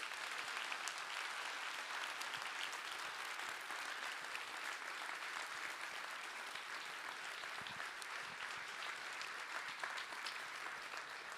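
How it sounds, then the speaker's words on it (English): Steady, dense applause from a lecture audience fills the whole stretch at an even level, with no voices rising above the clapping. "another round of applause"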